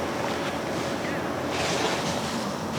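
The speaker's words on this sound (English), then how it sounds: "this is how easy it is to fill the 2-gallon bucket" Water rushes from a collecting system into a 2-gallon bucket outdoors, a steady loud broadband gush lasting the whole time, with a slight swell partway through.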